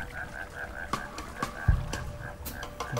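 Repeated croaking of a frog in the video game Shelter, a steady run of short calls over a murky in-game ambience, with a few louder thumps and bursts mixed in.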